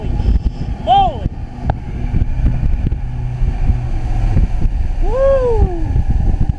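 A 2000 Jaws Lorequin 24 center console boat runs at about 50 mph and 4,600 RPM with the engine trimmed up slightly, giving a loud, steady roar of engine and wind. A voice whoops over it.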